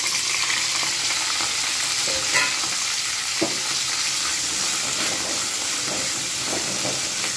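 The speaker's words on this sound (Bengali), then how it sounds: "এই তেলের মধ্যেই কিন্তু আমি ফুলকপিটাকে একটু ভালোভাবে ভেজে নেব।" Cauliflower frying in plenty of oil for a cauliflower, potato and lentil-dumpling curry, a dense steady sizzle and crackle heard up close, with a couple of soft clinks of utensils.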